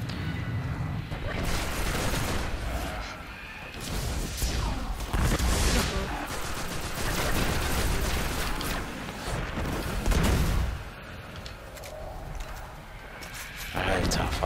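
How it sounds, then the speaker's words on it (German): Enemy gunfire in the shooter Destiny, a dense chaotic mix of shots, blasts and crashes rolling on continuously, with someone talking over it throughout. "Schießen die eigentlich auf sich gegenseitig hier oder was?"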